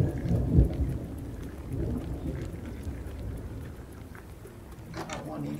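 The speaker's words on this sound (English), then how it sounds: "Thunderstorm bad." A Minecraft thunderstorm brings steady rain with a low rumble of thunder near the start and constant rushing texture throughout, while someone talks over it.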